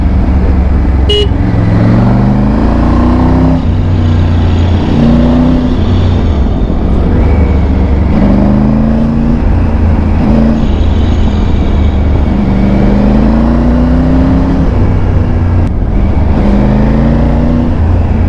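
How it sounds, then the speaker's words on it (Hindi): A Maruti Suzuki Swift passes on a winding road, heard from a motorcycle ride alongside a Royal Enfield Himalayan 450 and Triumph Tiger 900, its engine note rising and falling under constant loud wind roar and the bikes' drone. "अब गाड़ी आ रही है स्विफ्ट"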